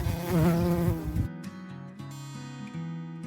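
Loud, close buzzing of stingless Trigona bees at an urban bee farm fills the first second, then gives way to a quieter steady hum with faint tonal sounds.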